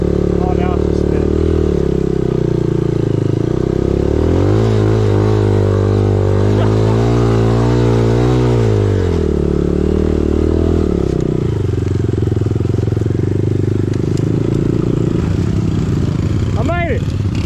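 Enduro motorcycle riding in rain and mud, its engine revving up and down loudly while the rear wheel spins in place, with a steady close roar throughout and someone talking over it.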